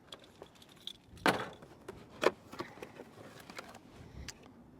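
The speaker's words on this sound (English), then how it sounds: "My knife is at home on the counter, so we use my keys." A set of keys jangles and clicks close by in a few brief bursts as they are used in place of a knife to cut open a box holding a Joule smart mug, with quiet handling noise between.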